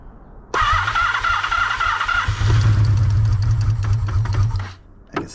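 A Honda VF750 motorcycle engine cold-starting on choke: a brief cranking whine, then the engine catches and runs at a loud, steady, rough idle before cutting out, with a short blip at the end.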